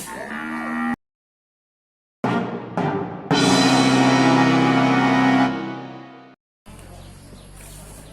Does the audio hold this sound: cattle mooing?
yes